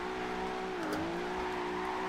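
A Nissan GTR engine in the racing game Forza Horizon 2 drones steadily under acceleration, with a brief dip in pitch partway through like a gear change, loud and continuous with no talk.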